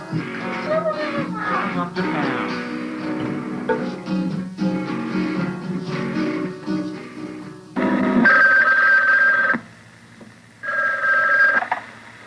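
A telephone rings in repeated electronic bursts over a busy music bed, the ring pattern clearest near the end as two separated trills.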